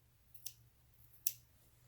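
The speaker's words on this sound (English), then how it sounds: "grab your scissors again and just snip it off at the very end" Scissors snip the tail of yarn off a finished crocheted coaster, two quiet, crisp clicks about a second apart over a low background hum.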